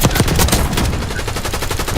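Dense rapid gunfire fills a video game match, with sniper rifle shots among overlapping bursts and no clear gaps.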